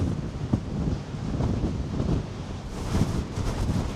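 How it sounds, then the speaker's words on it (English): Strong wind buffets the microphone in continuous gusts on the deck of the cruise ship Norwegian Aqua during a transatlantic crossing, with a broad rushing roar and low rumble from open water around the ship. "Quite windy out here, gang."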